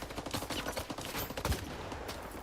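Rapid gunfire crackles through a S.T.A.L.K.E.R. 2 firefight, a quick run of sharp repeated shots with one heavier thump, fairly quiet and steady throughout.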